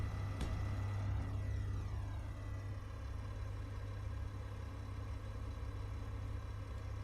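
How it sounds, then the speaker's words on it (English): About six hydrogen engines on a ship in the game Space Engineers drone steadily and loudly, a constant low hum with a layered mechanical whine and no break. "Forgot we have like 10 hydrogen engines in this thing."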